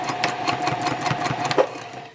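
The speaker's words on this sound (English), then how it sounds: "You just want to sew that while it's completely open." A sewing machine stitches the seam of a round-bottom fabric basket, running at a quick, even rhythmic chatter up close, then stopping after a brief final clunk.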